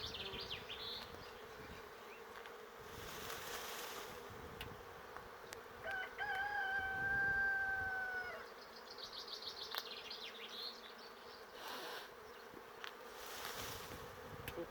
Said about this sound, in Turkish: Bak şu tarafı arı dolu.